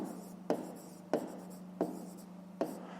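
Pen writing in a notebook during a maths exercise, four distinct taps each followed by a short scratchy stroke, close and quiet with no talk.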